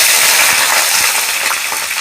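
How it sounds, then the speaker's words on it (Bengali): Eggplant dropped into hot mustard oil in a heated wok, giving a loud, steady sizzle throughout with faint scattered crackles. "তো আমার তেল তো গরম হয়ে গেছে, আমি বেগুনটা দিলাম।"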